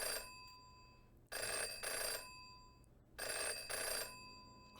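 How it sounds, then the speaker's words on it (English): A rotary telephone rings in the Jenny LeClue adventure game, its bell sounding in two paired bursts separated by short gaps, bright and fairly close over a quiet background. "Oh, look at that cool rotary phone."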